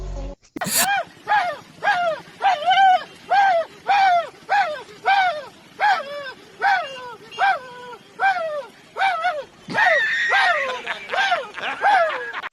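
A man imitates a dog with a long series of rhythmic barks and whimpering yelps, loud and close, each vocal burst evenly spaced, ending in a rougher, rapid stretch of barking.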